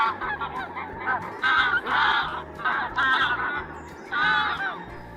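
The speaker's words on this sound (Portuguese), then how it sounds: "Os gansos domésticos são mais ativos à noite, dada sua consciência territorial." Domestic geese honk loudly and repeatedly in a close, noisy group, with overlapping calls rising in bursts over a steady low background rumble.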